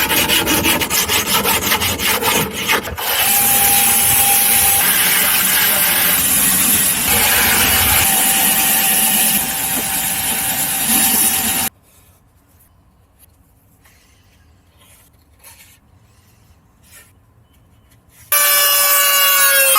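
Metal stove parts being cut rasp and grind loudly and continuously for about twelve seconds, then the sound drops to near silence with faint scratches before a loud harsh cutting noise bursts back in at the end.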